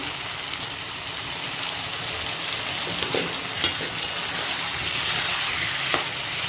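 Aloo dum spices being stirred with water in a frying pan, a steady bubbling sizzle with occasional scrapes and clinks of a spatula, close and continuous.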